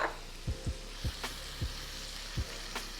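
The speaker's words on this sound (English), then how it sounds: "freshly minced garlic. I'm gonna cook that down a bit." Freshly minced garlic sizzles in lamb fat and compound butter in a pan, a steady close fry with several soft knocks of stirring, no voices.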